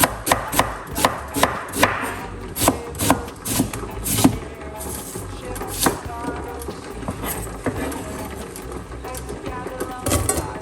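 A knife chops white onion on a cutting board in a home kitchen, a run of quick, sharp close taps in an uneven rhythm that thins out toward the end, with no talk over it.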